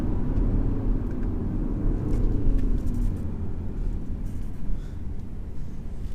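A 2018 BMW X4 20d SUV accelerates in manual mode with gear changes, heard from inside as a steady, loud low engine rumble and road noise throughout, rising slightly in the middle.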